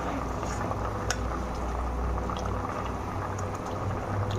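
Rui fish curry gravy with potatoes bubbling at a steady simmer in a pot, a dense continuous burble of boiling liquid with scattered small pops and no talk.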